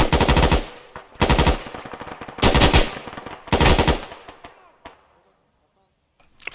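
Four long bursts of full-automatic rifle fire ring out loud and close in the Arma 3 video game during infantry group training, each rattling volley followed by a brief pause and a fading echo.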